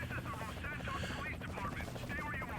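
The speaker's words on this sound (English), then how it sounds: "Oh, goody, a helicopter." A helicopter in the video game GTA San Andreas, its rotor thudding steadily close by, mixed with bursts of gunfire and a voice talking over it.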